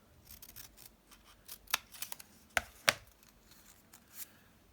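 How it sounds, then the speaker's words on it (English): Scissors snip a thin strip of paper during papercraft, giving several sharp, close cuts in an irregular run, with quiet rustling between them and no talking. "I could just cut off a thin strip"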